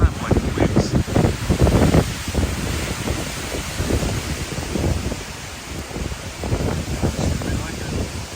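Loud, gusting wind during a thunderstorm roars in heavy surges across the microphone, with rain or rumble underneath and no clear talk.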